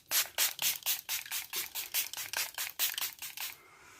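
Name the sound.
Primark makeup setting mist being sprayed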